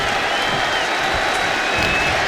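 An arena crowd in WWE 2K25 cheers and applauds in a steady, loud wash of noise throughout, without distinct voices on top.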